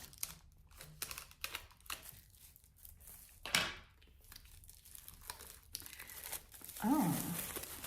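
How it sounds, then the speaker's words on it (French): Plastic shrink-wrap is peeled and torn off a new oracle card deck, producing close, intermittent crinkling with a sharper rip midway and a louder rustle at the end. "Et je vais le déballer avec vous. Donc il est sous un film plastique"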